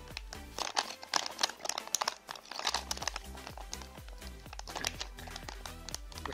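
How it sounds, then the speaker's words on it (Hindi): A sticker being peeled off a new NVIDIA RTX 4060 graphics card, a stretch of close crackly crinkling and tearing with uneven bursts, over a faint low hum. "Remove this sticker."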